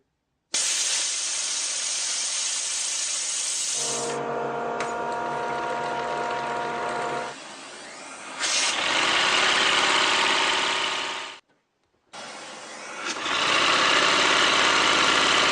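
A homemade air engine runs with a loud, airy hiss and fast mechanical chatter, pumping air in bursts that drop out and restart several times, close up with no talking.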